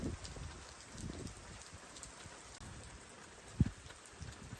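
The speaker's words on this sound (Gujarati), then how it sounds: "અત્યારે તો જોરદાર વરસાદ છે." Heavy rain falling on a Gujarat farm, a steady hiss of downpour with scattered drips and one sharp knock, heard fairly close and alone without any voices.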